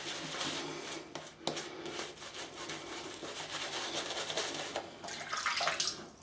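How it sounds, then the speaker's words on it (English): Tap water runs steadily onto a shaving brush at a bathroom sink while lathering Proraso cypress and vetiver shaving cream, a close, continuous splashing hiss with a few soft knocks. "little bit of water in the brush."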